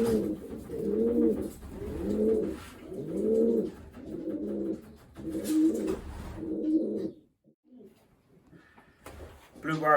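Racing pigeons, including an old Bushart cock, coo in a steady run of six or seven rounded, throaty phrases at close range, then a brief lull before another call starts.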